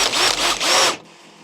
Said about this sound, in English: let's find my 20mm Forstner and we'll drill some holes